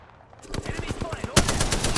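Rapid automatic gunfire in the battle-royale video game Apex Legends, a fast burst of close shots that grows louder and denser partway through, with no voices over it.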